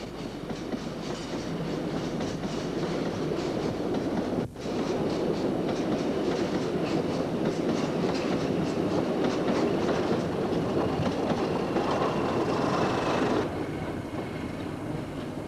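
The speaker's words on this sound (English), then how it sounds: "This Class 31 is seen propelling its fertiliser train back to Grendon Underwood Junction." A Class 31 diesel locomotive propels a fertiliser train along a rural branch line, a steady rumbling drone with rhythmic clickety-clack of wagon wheels rolling past close by for the full fifteen seconds, with no talk.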